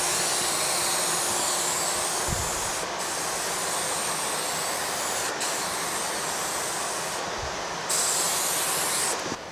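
A gravity-feed spray gun loaded with 1.5 pound cut finish hisses continuously in a woodworking shop while spraying an end table, a steady close airy spray with a few brief interruptions and a dust collector moving air.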